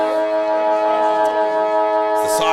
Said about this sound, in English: The siren sounds for quarter time here